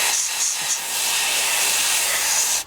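An airbrush sprays thinned paint onto a 1/48 Tamiya Supermarine Spitfire Mk.I model as a steady, close, airy hiss lasting a few seconds before cutting off abruptly.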